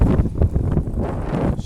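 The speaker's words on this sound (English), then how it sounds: "It's probably super windy right now. Y'all probably can only hear wind." Strong wind blowing outdoors, a loud steady rush of gusty buffeting against the microphone with no clear gaps.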